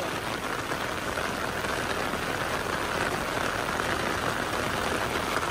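Heavy rain pours on the steep Kayu Duo hilltop climb, a dense, steady hiss that holds at an even level throughout, with a faint low engine rumble underneath and no voices.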